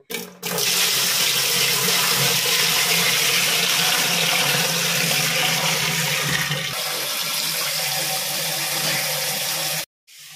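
Water gushes and splashes steadily for several seconds in a strong continuous pour with a low hum beneath, then stops suddenly.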